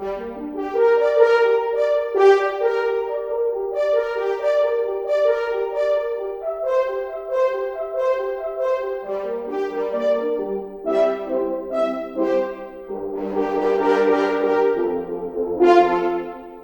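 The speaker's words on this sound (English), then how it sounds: "If we just take a quick listen to the staccato, it sounds like this." Short, detached orchestral notes from a Kontakt 7 sample library play in quick rhythmic bursts, layered strings and brass jabbing in a steady pattern, loud and close with no voices.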